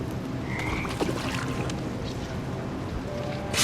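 Toads croak in a dark labyrinth scene in a video game. Low, throaty croaks sit under a steady murky ambience, with a brighter swell near the end.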